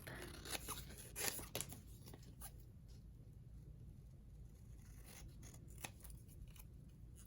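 Scissors snip embroidery floss while kitting up a cross-stitch project, a few quiet close cuts early on followed by soft crunchy snips and handling rustle.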